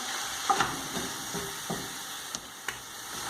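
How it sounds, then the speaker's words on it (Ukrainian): Meat crackles and sizzles softly in a hot pan, with occasional light scraping taps as it is stirred. "і продовжуємо смажити"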